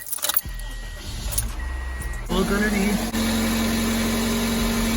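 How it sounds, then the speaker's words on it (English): A 2003 Toyota Corolla engine cranks and catches partway through, then settles into a steady idle, with a brief spoken remark and some jangling near the start. "So we're going to start the car now."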